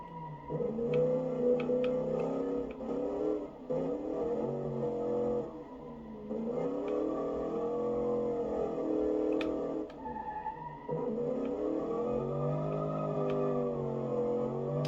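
A 1972 muscle car's engine drones steadily from inside the cabin, its low pitch rising and falling as the driver eases on and off the throttle. Several short dips in the drone are heard, along with faint ticks.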